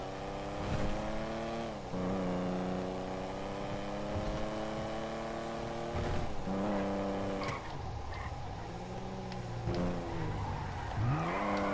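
Engine notes of the Rune Cheburek car in Grand Theft Auto 5 rise and fall through repeated revving and gear changes, with occasional tire squeal, loud and continuous throughout.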